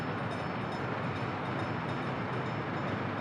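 A train running straight through in the simulation game Workers & Resources: a steady, continuous rumbling roll at moderate distance, even throughout with no talking.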